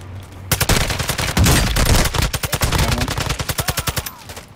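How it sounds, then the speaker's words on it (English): Rapid automatic gunfire in Call of Duty MW2 DMZ, loud close bursts of evenly spaced shots, first dense and overlapping, then a clean rhythmic string of single reports, with no talking. "Oh, I'm being shot in the back."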